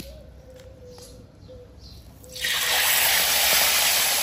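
A piece of chicken is dropped into hot frying oil. After a quiet stretch with faint background sounds, an abrupt, loud, sustained sizzle bursts out and continues steadily, heard close.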